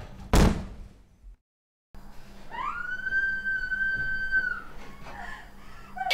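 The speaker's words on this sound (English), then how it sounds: "Lucy, open the fucking door" A sharp, loud bang on a door at the start of a tense domestic confrontation, followed by a sudden silence, then a long wavering tonal wail resembling a distant siren over a background hum.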